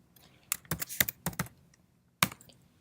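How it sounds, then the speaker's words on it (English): A search term being typed on a computer keyboard: a few close, crisp key clicks in a quick cluster, then a pause and one final keystroke, with quiet in between. "When you type the word into the search box located in the top menu bar of the homepage"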